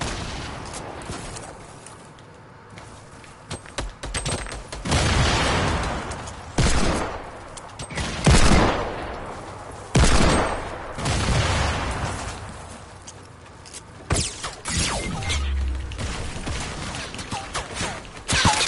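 Gunfire in the Fortnite video game: repeated bursts of loud, close shots and rapid volleys come in uneven clusters over a steady battle din, with no talk.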